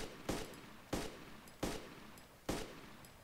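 Four loud gunshots ring out in the DayZ video game, evenly spaced about two-thirds of a second apart, each a sharp crack with a short decaying tail, and no one speaking.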